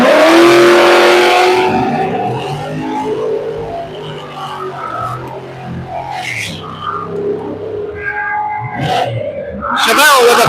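Chevelle and a blue C10 launching side by side at a drag strip, engines roaring loudly with tire noise, an announcer's voice running over the whole run.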